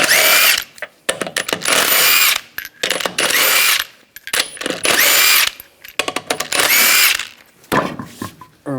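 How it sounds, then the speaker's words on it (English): Lug nuts come off a 2004-2009 Toyota Prius front wheel with a power tool and 21mm socket, in repeated loud bursts of high whirring, each about a second long and separated by short pauses. "Use a 21mm socket. Take the lug nuts off."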